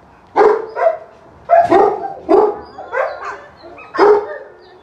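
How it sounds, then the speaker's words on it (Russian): A series of short, hoarse barks, about six in uneven rhythm, sound close and fairly loud with brief pauses between them. "волки тоже могут издавать звуки и лаять"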